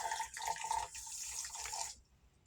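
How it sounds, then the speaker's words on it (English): Water poured into a terrarium onto dry sand, a steady close splashing trickle lasting about two seconds before stopping abruptly. "So I'm going to pour some water down there."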